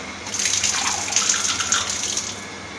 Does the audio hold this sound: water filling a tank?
yes